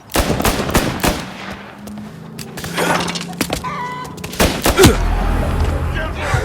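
Gunfire in the Mafia Definitive Edition video game, a rapid series of sharp shots and bursts amid street commotion and shouting voices, loud and close.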